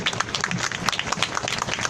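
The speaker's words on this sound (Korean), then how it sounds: "우리 스스로를 위해서 한번 큰 박수 부탁드리겠습니다" A crowd at a street protest rally in Korea claps and cheers steadily, dense and continuous, with a few voices mixed into the applause.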